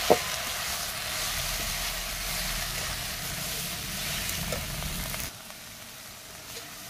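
Fish frying in a pan with salt and turmeric, a steady close sizzle with faint stirring that drops off sharply near the end.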